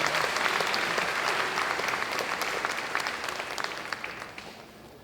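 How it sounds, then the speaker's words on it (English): Applause from a university convocation audience after a mouth-trumpet performance, a broad, continuous crowd clapping that tapers slowly in loudness over several seconds. "Let's give him a big round of applause, please"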